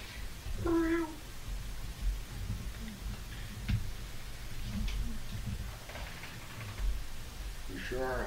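A cat meows twice, once early and once at the end, short and fairly clear over a faint background hum with soft room noises between.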